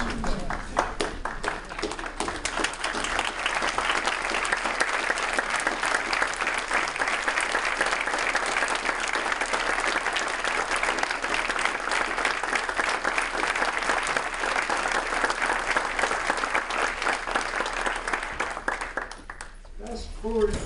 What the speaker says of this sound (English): put your hands together, and really give Arthur an applause